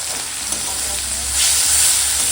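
Ginger-garlic paste with salt, turmeric and red chilli powder frying in a pan, a steady close sizzle that swells louder in the second half, with no talking.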